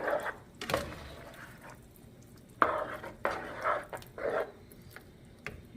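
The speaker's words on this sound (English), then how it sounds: "And then we'll stir to combine." A spoon stirs a hearty tomato meat sauce for lasagna, sweetened with a little white sugar, in a pot, giving several separate scraping, clinking strokes at close range over a quiet background with no voices.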